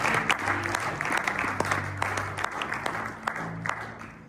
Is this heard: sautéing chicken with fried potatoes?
no